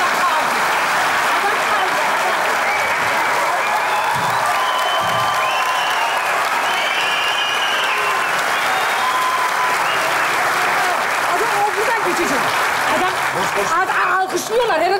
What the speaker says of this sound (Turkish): Alkışlıyorlar.